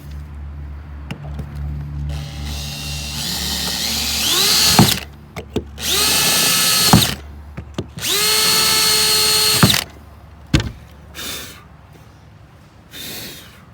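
A power drill bores into the fiberglass hull of a bass boat to mount rod holders. Three loud, sustained whining runs each last a couple of seconds, the pitch rising and falling, with sharp clicks and short bursts in between.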